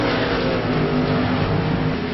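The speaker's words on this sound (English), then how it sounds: "Chad Cole bumping and banging all over, trying to get by the iRacing ETV Live 37 machine." Race car engines roaring in the iRacing sim racing game at Phoenix Speedway, a steady loud drone of several cars running together, sustained without pause and no voices.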